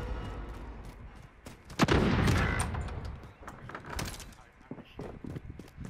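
A video game decoy grenade emitting fake gunfire, a scatter of sharp cracks and bursts peaking in a loud clustered volley, mixed with voices talking over it.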